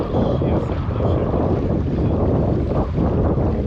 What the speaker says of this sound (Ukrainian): Вітер роздувається, друзі.